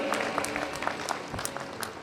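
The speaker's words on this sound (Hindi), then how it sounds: "जोरदार तालियां बजाकर आप इनका स्वागत करें।" Audience at a Bhagavat Katha religious gathering claps to welcome arriving guests, a steady patter of applause of moderate loudness lasting a couple of seconds with little else over it.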